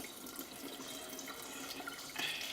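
Tap water runs steadily into a bowl of rice being rinsed and drained to wash off the starch, a constant close splashing wash with a brighter gush near the end, no voices.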